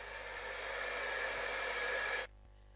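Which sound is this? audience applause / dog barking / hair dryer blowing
hair dryer blowing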